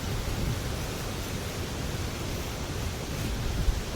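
Strong seaside wind at an Australian campsite roars in a loud, continuous broadband rush with no breaks, like heavy gusts buffeting close by, with no voices over it.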